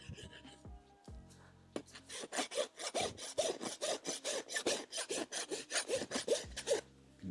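Rasp scraping up the wall of a horse hoof on a cadaver limb, a steady run of rough, rhythmic strokes close by, about two per second, after a few quieter scratches and knocks.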